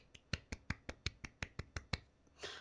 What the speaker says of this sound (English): Round of applause. Good little golf clap.